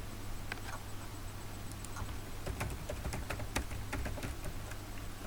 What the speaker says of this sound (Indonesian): Caranya saya ketik dulu di sini.